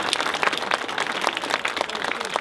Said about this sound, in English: A big cheer for Amy and Darcy.